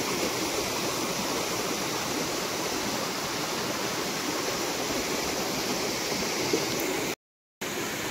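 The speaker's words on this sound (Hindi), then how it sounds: "आप देख सकते हो झरना, ये झरने का पानी।" A forest waterfall near Ramnagar, Uttarakhand, roars in a constant, full-bodied rush of water, steady and close, with a brief dropout near the end.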